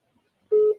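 One short, clean telephone dialing tone sounds on a phone line, a brief steady beep after near silence.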